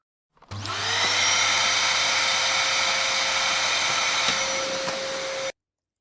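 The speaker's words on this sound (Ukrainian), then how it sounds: "Це звук пилососа." A vacuum cleaner switches on, whines steadily at full power for several seconds, then cuts off abruptly.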